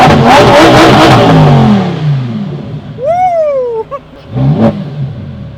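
Car engine revving loudly up close, a hard rising roar that falls away, followed by a high whistling whine gliding down and a second brief blip of revs.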